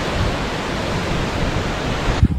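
A waterfall in Yosemite National Park roars below an overlook, a steady broadband rush of falling water that stays constant throughout, with a brief bump of handling noise near the end.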